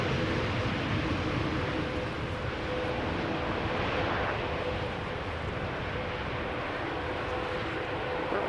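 A TUI Boeing 787 Dreamliner arriving at Schiphol Airport produces a broad, distant roar of jet engines that swells slightly midway and holds steady, fairly faint.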